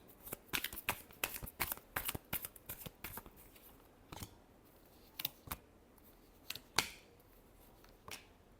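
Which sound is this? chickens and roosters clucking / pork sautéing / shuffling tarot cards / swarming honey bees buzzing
shuffling tarot cards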